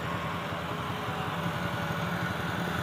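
A tractor engine idles steadily at close range, a continuous low rumble with even, rhythmic pulsing that holds constant throughout, with no talk over it.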